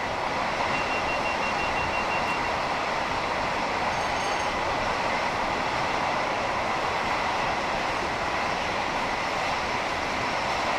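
Simulated Class 86/2 electric locomotive from Train Sim World, a steady continuous rumble of wheels on track with a faint high squeal, loud and unbroken throughout.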